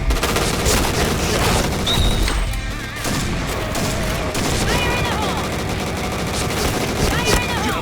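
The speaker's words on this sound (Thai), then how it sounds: "ระเบิดมาเรื่อยเลยวะ" Explosions and rapid gunfire from the Point Blank online shooter game, a dense continuous barrage of blasts and automatic fire running throughout at steady high loudness, with no voices heard.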